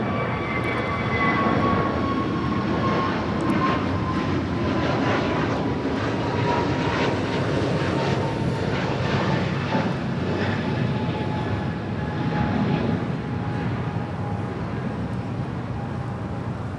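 A jet airliner thunders at LAX, its broad engine roar holding steady and loud for the whole stretch with a faint whine riding above, no voices present.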